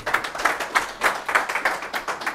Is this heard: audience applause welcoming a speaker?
yes